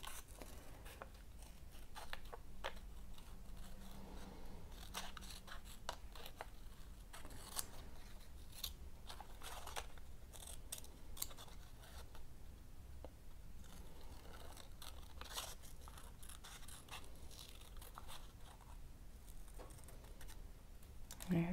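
Scissors cut card for a Donald Duck paper bookmark with faint, close, repeated snips and rustling in a quiet room.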